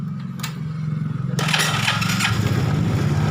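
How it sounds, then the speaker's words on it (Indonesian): A motorcycle engine starts with a brief cranking burst, then catches and settles into a steady, close idle with a rapid even throb, on a bike being checked for a dead voltage regulator. "Kita hidupin motornya ya."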